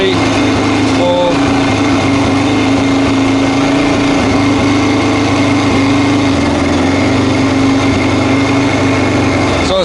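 A Honda XR600R motorcycle engine runs at a steady, loud idle throughout, with a constant close thumping drone and no change in pace.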